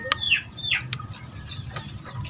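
Gamefowl at a small breeder's farm are being fed, giving a few short, sharp clucks and calls close by over a low rumbling background.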